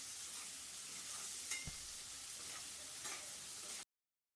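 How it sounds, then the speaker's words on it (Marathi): Finely chopped onion sautéing in a pan, a faint steady sizzle with a few light stirring scrapes, ending abruptly. "आता आपण याच्यामध्ये बारीक चिरलेला कांदा टाकून घ्यायचा आहे आता कांद्याला छान परतून घ्यायचंय आहे"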